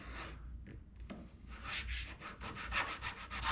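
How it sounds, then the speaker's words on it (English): A fine, delicate metal file rubbed across leather to find a high spot, a close, scratchy rasping that starts in short strokes and builds into steady, louder back-and-forth strokes. "I'm gonna take a very delicate file"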